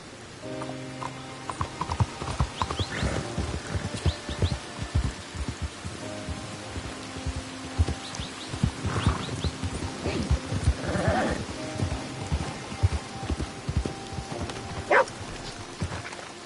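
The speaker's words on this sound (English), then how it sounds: "You got a horse? Get on it." A horse in the video game Red Dead clip-clops along at a steady gait, with occasional neighs and snorts and a dog barking now and then in the game's outdoor surroundings.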